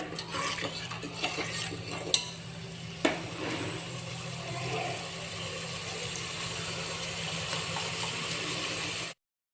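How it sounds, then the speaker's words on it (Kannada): Fish sambar ingredients frying in hot oil, a steady broadband sizzle with a low hum underneath and a couple of sharp utensil clinks near the start, continuous for about nine seconds before cutting off. "ಇದು ಒಂದು 10 ಸೆಕೆಂಡ್ ಕುದೀಲಿ ಎಣ್ಣೆಯಲ್ಲಿ"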